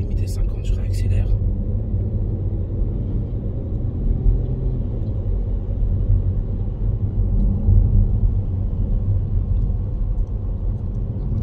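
A driving-exam car accelerates on a 50 km/h road, a low steady engine rumble building gently under the cabin noise, with a brief rattle at the start.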